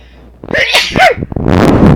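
One loud, close sneeze with a sharp inhaled build-up and an explosive release, heard on its own in a room during a tabletop role-playing game session.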